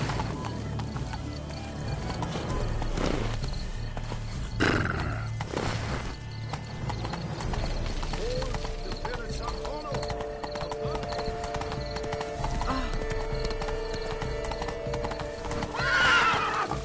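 Horse hooves clip-clop at a gallop with a clear neigh from a mount in The Witcher 3 video game, steady hoofbeats running throughout, with speech heard over the riding.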